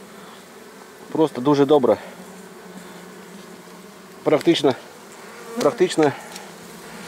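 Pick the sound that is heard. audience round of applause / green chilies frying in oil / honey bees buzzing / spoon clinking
honey bees buzzing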